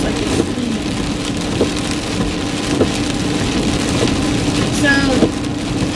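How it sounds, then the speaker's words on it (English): Outdoor rain on a cold day falls steadily on surfaces nearby, a constant dense patter with scattered louder drips and a faint brief voice near the end. "I don't know if I want to work in the rain when it's cold."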